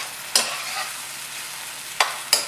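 Fresh thyme and rosemary sprigs cooking in a pot give off a soft, steady sizzle, broken by three sharp utensil knocks against the pot.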